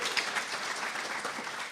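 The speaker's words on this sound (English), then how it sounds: "round of applause, absolutely" Audience applause during an improv show at the Santa Barbara Zoo, a moderate, continuous wash of clapping from a crowd with no voices over it.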